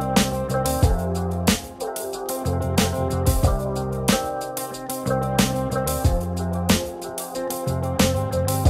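A full electronic beat built in Studio One Pro 7, with punchy kicks and snares on a steady repeating rhythm over sustained bass and layered melodic synth parts, loud and continuous with no talking.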